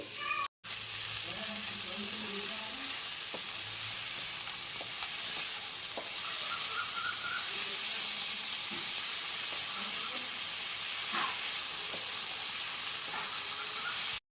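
Jaggery powder cooks with grated papaya in a pan, making a steady, continuous sizzle and hiss with occasional faint stirring scrapes, under soft intermittent talk.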